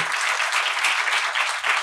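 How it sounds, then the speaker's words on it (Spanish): An audience applauds a doctor during a talk show about supplements, a brief, dense wash of steady clapping that runs without pause for a couple of seconds. "Un aplauso doctor"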